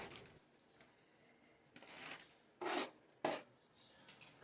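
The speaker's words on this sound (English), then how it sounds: "I'm using 2 trowels to work the sides to get that nice sharp corner and still scrape out all the excess material out from underneath that overlap" Two trowels scrape and smooth shower pan waterproofing material, soft rasping strokes with a few sharper scrapes, close and quiet, no talking.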